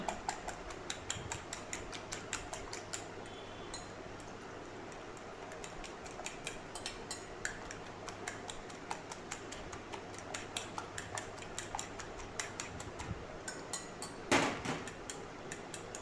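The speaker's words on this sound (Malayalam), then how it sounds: "നന്നായിട്ടൊരു ഫോർക്ക് വെച്ച് നന്നായിട്ടൊന്ന് മിക്സ് ചെയ്യാം" Fork whisking omelette eggs with spice powder in a bowl, a rapid, steady run of light metallic clicks and taps lasting the whole time, close and fairly quiet, with one louder knock near the end.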